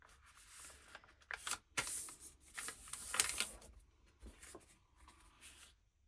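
Paper being cut and folded for a junk journal: close, faint crisp rustles and snips in short irregular bursts, alone with no talking.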